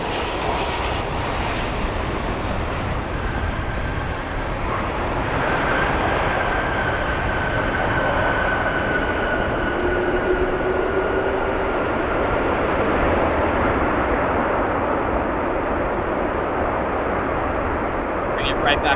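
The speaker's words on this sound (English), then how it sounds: "here is our Aer Lingus A330." An Aer Lingus Airbus A330 at O'Hare produces a loud, sustained jet roar with faint whining engine tones drifting across it, while a person talks over the noise.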